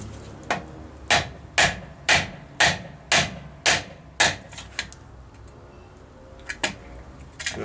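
About nine sharp metal hammer blows land on a ball joint splitter wedged into a Rover P6 V8 manual pedal box, struck at a steady rhythm, close and loud, then a few lighter taps follow near the end.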